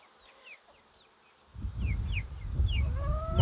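Chickens on a hobby farm raising egg layers, with a few faint, thin bird calls repeating at a distance, then a louder low rumble of handling noise starting partway through.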